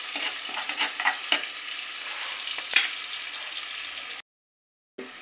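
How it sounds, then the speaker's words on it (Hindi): Chopped onions frying in a pan and being stirred, a bright hiss with irregular scraping taps of the spoon, cutting off to silence briefly near the end. "साथ में जो कटी हुई प्याज है उसको, और चला देंगे, काटा पकाएंगे।"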